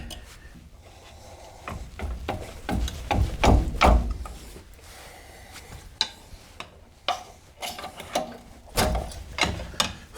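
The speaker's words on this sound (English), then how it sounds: "Just pry up on the caliper a little bit against the caliper bracket and work it off of it." A pry bar works a brake caliper off its bracket on a 2000 Chevy Silverado front suspension, giving irregular metallic scrapes, knocks and clunks in close bursts.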